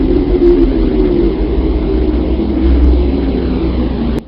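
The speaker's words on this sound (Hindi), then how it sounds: "इसकी आवाज को गौर से सुना जाए तो इसमें एक हम जैसी आवाज सुनाई देती है" A steady, deep hum presented as the recorded sound of the Earth, a continuous low drone with a rumbling texture that holds evenly at a loud level throughout and cuts off abruptly just before the end.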